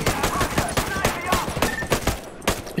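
Rapid video-game gunfire aimed at an antenna during a mountain siege, a dense string of sharp shots in quick bursts, loud and close throughout.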